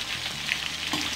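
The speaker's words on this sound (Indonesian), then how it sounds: "kita mau gorengnya sebentar lagi nih" Chicken pieces fry in hot oil in a pan for ayam goreng, a steady close crackling sizzle with small pops, and no voices.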